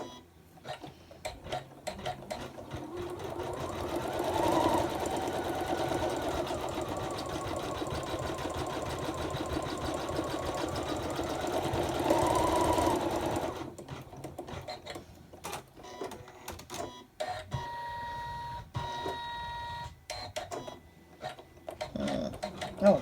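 An embroidery machine stitches out a gingerbread boy tree hanger, its needle running in a steady rapid whir for about thirteen seconds, then settling into sparser, stop-start stitching with clicks and pauses, close and fairly loud with no talk.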